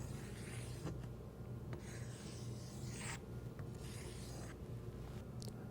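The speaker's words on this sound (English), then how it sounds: "Then place the compass point at the center and scribe a line all the way around." A compass point scribes a circle into a wood board, a soft, continuous scratchy rasp that swells and fades in long strokes under a low background hum.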